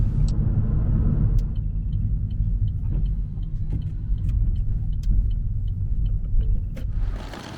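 Car driving along a road in the South Downs, a steady loud low rumble of engine and tyres heard from inside, with faint ticks and small clicks on top.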